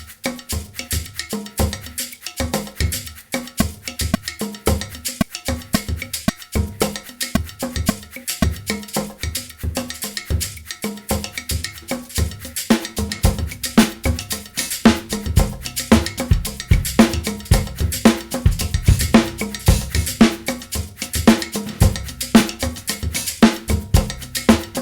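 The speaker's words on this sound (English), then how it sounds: "we'll try a little bit of a percussion part that's a little bit different this time" Percussion part with a prominent cowbell-like tapping, played over a steady drum track, dense rhythmic hits running loud and continuous throughout, busier and heavier in the second half.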